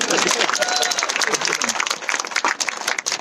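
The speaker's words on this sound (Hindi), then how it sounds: "ठोको ताली ठोको" Rally crowd at a political speech in Chhindwara, Madhya Pradesh, clapping and cheering loudly in a dense, continuous burst, with voices mixed into the noise.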